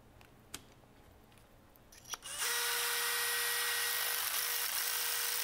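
A power driver tightens a screw down onto a long hex standoff, starting with a couple of small clicks and then a loud, steady high-pitched whir that runs close up to the end.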